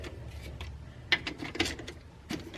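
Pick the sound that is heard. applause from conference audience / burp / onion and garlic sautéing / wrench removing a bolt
wrench removing a bolt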